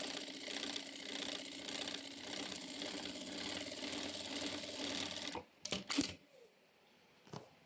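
An electric sewing machine, model GS90, runs steadily stitching a pattern with a fast, even mechanical hum and rattle, then stops and a few sharp clicks and knocks follow, close by.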